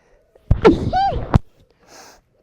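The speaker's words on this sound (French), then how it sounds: "Je vais éternuer." A single sharp, explosive sneeze set off by dust, with a quick intake before it, followed by a short breathy exhale, close and loud in a quiet room.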